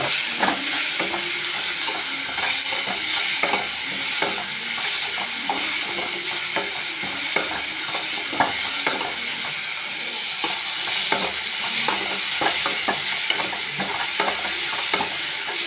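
Ridge gourd sautéing in oil in a pan for chutney, a steady dense sizzle with frequent scraping stir strokes running throughout, close and fairly loud with no talk.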